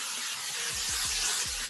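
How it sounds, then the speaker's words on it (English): A can of vegetable oil cooking spray hisses onto a cookie sheet, one continuous broad spray lasting under two seconds, close and alone before it cuts off. "We'll spray the pan with vegetable oil so they won't stick"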